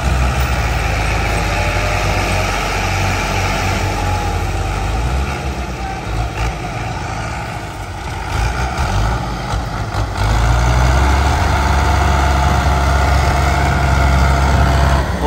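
A tractor hauls a loaded sugarcane trolley out of a watercourse, its engine a continuous heavy drone that dips slightly midway and then swells louder and deeper as it pulls.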